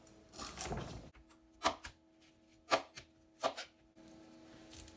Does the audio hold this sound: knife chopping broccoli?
yes